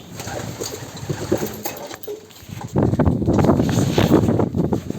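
Pigeons in a pigeon house cooing close by, soft low coos, then a louder burst of fluttering and shuffling in the second half, with wind noise on the microphone.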